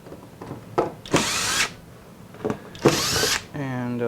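Power drill backing screws out of a wooden acoustic guitar neck joint fixture template, two close, loud bursts of whirring about half a second each, with lighter handling knocks between and a short tonal whine at the end.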